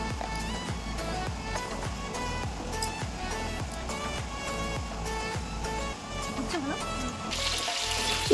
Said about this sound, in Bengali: এখানে আমি বিরিয়ানি করার জন্য আলুগুলোকে ভেজে নিচ্ছিলাম।